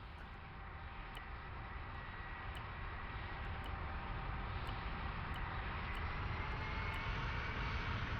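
An aircraft engine spools up in the ARMA 3 game, a steady dense roar that slowly builds in loudness, with faint sharp clicks above it.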